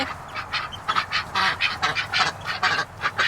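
Ducklings and ducks quacking by a backyard coop, a dense run of rapid overlapping quacks and peeps up close, steady throughout with no talking.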